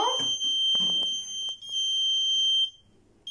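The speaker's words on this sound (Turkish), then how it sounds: "eğer doğru bir şekilde olmuyorsa led ve buzzer yanıyor" A high electronic buzzer on a smart chair project sounds a steady, piercing tone for a few seconds, with faint clicks and rustling beneath it.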